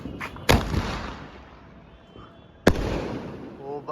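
Two loud Indian firecracker blasts from a local desi brand at a family Diwali celebration, each a sharp bang with a long rumbling echo, spaced about two seconds apart outdoors.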